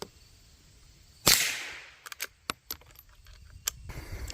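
Cartridges feeding into the action of a Marlin 39A lever-action .22 rifle: a loud metallic clack followed by a string of sharp, close clicks and rattles of metal parts, with no talk.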